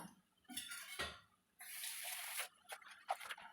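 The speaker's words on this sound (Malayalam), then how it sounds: "ഇതൊക്കെ നമുക്കിനി കുറച്ച് അതിലേക്ക് വെള്ളം ഒഴിച്ച് കൊടുക്കാം" Water is poured into a Kerala-style egg kurma curry in a pan, heard as faint splashing bursts mixed with light clinks of a vessel and spoon, near and quiet, with no talk.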